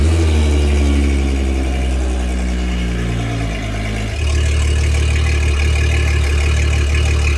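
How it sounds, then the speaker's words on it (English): A boat's outboard engine, running on a motor flusher with water flowing, idles loudly and steadily close by. Its low rumble shifts in tone partway through, then settles into a rough idle. "we'll turn on the water and then we'll fire up the engine."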